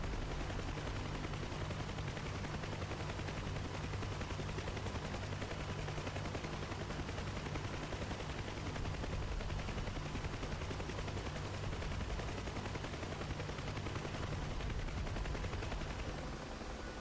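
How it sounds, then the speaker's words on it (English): Steady dense rumble of distant artillery and continuous gunfire in DCS World, heard around a UH-1H Huey helicopter, constant and even for the whole stretch with no talk. "the entire area is under active artillery attack"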